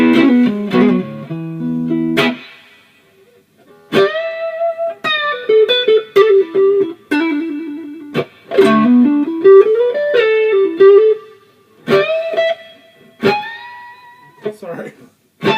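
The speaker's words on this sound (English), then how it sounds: "they call it distortion, but it sounds like a good overdrive" An electric guitar runs through an MXR Custom Badass '78 Distortion pedal, giving a gritty overdrive tone as short riffs, single notes and chords stop and start with brief silent gaps.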